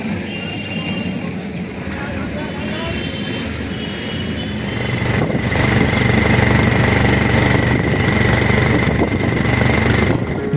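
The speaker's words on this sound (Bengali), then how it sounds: "নামখানা স্টেশন থেকে অটো ধরে চললাম বকখালির উদ্দেশ্যে" A shared auto rickshaw's engine drones loudly during a ride from Namkhana station toward Bakkhali, its rumble steady and growing louder midway, with voices faintly in the background.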